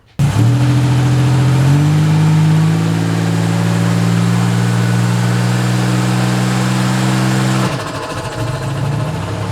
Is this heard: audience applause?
no